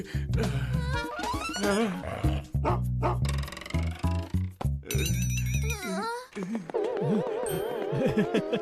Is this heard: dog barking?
yes